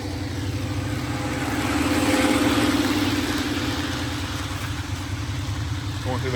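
A large Lionel conventional model train engine runs on a FasTrack garden railway, giving off a steady, buzzing motor hum with a rhythmic rumble that swells slightly midway and then stays constant.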